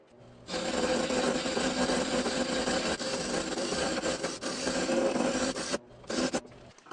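A wooden ring for a ball bearing turning on a lathe as its outside is rounded, giving a steady loud rasping, scraping cut that runs for several seconds, breaks off briefly, then resumes for a short burst.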